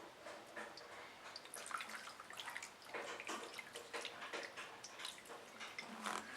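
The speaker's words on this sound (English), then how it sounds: "you want to just take a little bit of acetone and pour it through." Acetone trickles and splashes faintly through a 7500QT/7700QT spray gun valve in a light, irregular stream, with small drips and gurgles close by.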